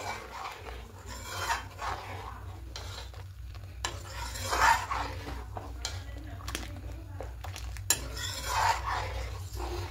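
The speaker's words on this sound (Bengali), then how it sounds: "গুড়টা দিয়ে খুব ভালো করে মিশিয়ে নেব।" Grated jaggery being stirred into milk in a pot: a steady scraping and rubbing of a spoon against the pan in repeated strokes, close and moderately quiet, over a low background hum.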